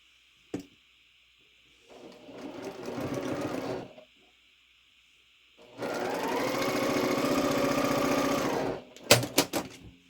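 A sewing machine stitching quilt pieces together in two bursts: a short run, a pause, then a longer steady run, close and loud over a faint background hum, followed by a few sharp clicks.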